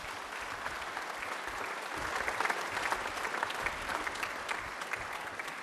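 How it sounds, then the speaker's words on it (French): Steady applause from a crowd at a Christmas Mass in a church, sustained throughout and swelling slightly in the middle, with no talking. "Je crois qu'on peut les applaudir."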